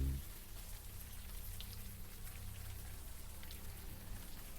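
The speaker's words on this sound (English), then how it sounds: "the warm rain is coming down" Warm rain falls in the video game Unavowed as a steady, even patter with a low rumble underneath, continuous and fairly soft throughout.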